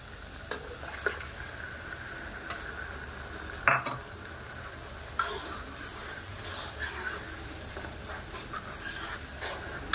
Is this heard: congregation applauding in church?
no